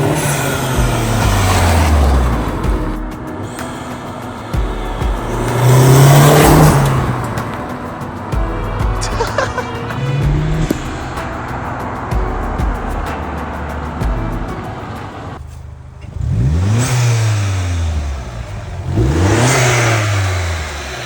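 A wrecked Vauxhall Corsa VXR engine revs hard while driving, climbing through several loud, rising acceleration pulls with brief drops between gear changes, close and continuous, with no talking.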